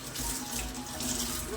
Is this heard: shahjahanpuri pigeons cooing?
no